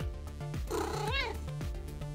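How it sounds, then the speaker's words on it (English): A pet cat meows, a single drawn-out rising and falling call heard close and fairly loud over a steady background hum in a workshop during a Sinclair ZX81 computer repair. "So here's my cat."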